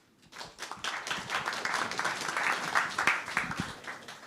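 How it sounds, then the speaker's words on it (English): Event audience at a workforce reskilling conference breaks into applause, the clapping swelling quickly from silence into a dense, sustained round of many hands that holds steady to the end. "Let the new history start now with a big round of your applause."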